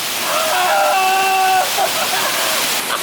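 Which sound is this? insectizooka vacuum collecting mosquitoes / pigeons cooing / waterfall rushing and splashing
waterfall rushing and splashing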